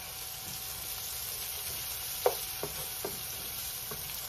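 Onion and garlic frying gently in a pan for a shrimp Alfredo, a steady low sizzle with a few brief stirring clicks and scrapes, no talking.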